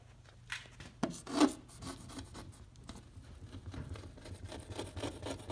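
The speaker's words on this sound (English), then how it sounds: "you'll take your razor blade and you'll start taking off all of that adhesive gunk that's left behind" Quiet scraping and rubbing of a razor blade against a car window, removing leftover tint adhesive, with a few sharper scratches early on and steady rasping throughout.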